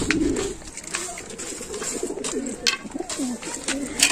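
Pigeons cooing in a breeding loft during winter, several soft, low, repeated coos near and far, overlapping throughout with a few brief higher chirps and light rustling.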